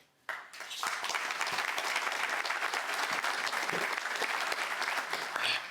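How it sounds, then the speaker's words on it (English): A crowd at a Memorial Day service with street sign dedications bursts into applause after a short quiet moment, then sustains thick, steady clapping at an outdoor gathering until the end. "you all deserve a round of applause"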